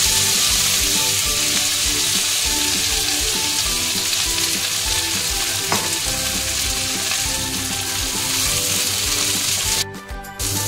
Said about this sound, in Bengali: এটা দিয়ে দিলাম নোটে শাক।